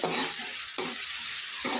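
Mustard seeds and cumin sizzle in about two tablespoons of hot oil for a brinjal palya tempering, a steady close crackle with a few sharper bursts of spitting, no voices.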